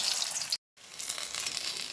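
Cauliflower florets coated in gram flour batter sputter in hot oil in a wok as pakoras fry, giving a steady sizzle that cuts out briefly near the start, then resumes.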